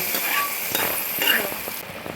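Spices tempering in hot coconut oil for a jackfruit sukka, a steady close crackling sizzle with a few faint clinks of a utensil, no voices.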